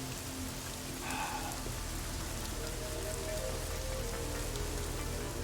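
Steady rain falls in the video game Deus Ex: Mankind Divided, a constant hiss of drops on surfaces over a low rumble, even and unbroken, with no one talking.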